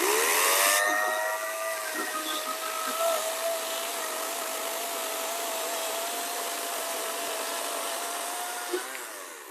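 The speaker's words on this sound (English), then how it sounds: "So now we're going to go with the Ego 56 volt 14-inch chainsaw." An Ego 56 volt 14-inch battery chainsaw cuts through wood with a loud, steady electric motor whine and chain buzz. The pitch dips slightly as it bites, then holds constant for several seconds, close and continuous.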